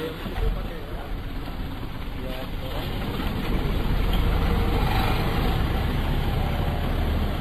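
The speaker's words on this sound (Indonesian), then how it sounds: "Proses penyedotan tinja dari lubang septic tank sedang berlangsung di mobil milik Karyono" A vacuum truck suctions sewage from a septic tank, its heavy engine rumbling steadily with a rushing, gurgling suction noise that grows louder partway through, close by and continuous.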